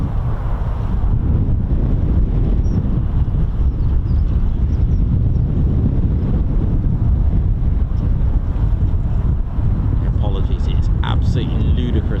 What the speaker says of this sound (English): Ludicrously windy.